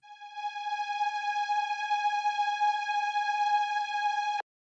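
A sustained synthesizer string tone holds one steady note alone, bright and buzzy, then cuts off abruptly at the end.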